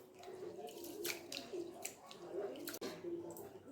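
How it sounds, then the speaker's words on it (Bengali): Gobindobhog rice being washed by hand in a bowl of water, with soft sloshing, squishing and dripping as the grains are rubbed and the water changed, quiet and close. "এবার এই চালটাকে খুব ভালো করে জল পাল্টে পাল্টে ধুয়ে নেব।"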